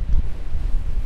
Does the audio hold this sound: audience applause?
no